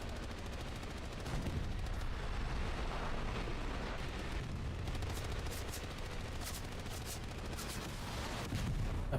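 Artillery shelling and gunfire in a war video game form a dense, constant barrage, with heavy booms under crackling bursts of shots throughout.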